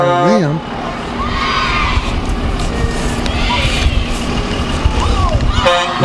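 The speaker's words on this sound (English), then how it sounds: "Looks like a lot of trucks and some more old cars." Trucks and old cars roll past in a Christmas parade with a steady engine rumble, a few horn toots at the start and end, and people talking nearby over the traffic.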